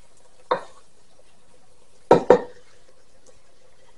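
A utensil stirs ground beef and peppers in a pan for a Mexican casserole, making three sharp scraping knocks, the last two close together, with near silence between.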